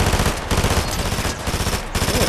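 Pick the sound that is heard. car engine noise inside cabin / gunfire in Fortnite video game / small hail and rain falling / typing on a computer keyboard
gunfire in Fortnite video game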